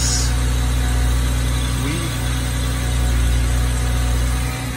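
A BMW E90 engine idles after an oil change, a steady low close rumble with a slight swell partway through.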